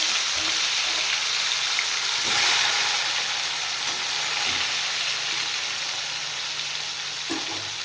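Fish fries in hot oil with a constant, dense crackling sizzle and a few faint clinks, steady and close with no voices.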